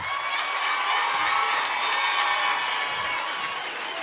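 A university lecture audience applauds and cheers for visiting students from the University of Limpopo, a continuous crowd roar of clapping and voices holding steady throughout.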